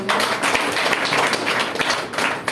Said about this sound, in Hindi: एक बार अपने लिए जोरदार तालियां।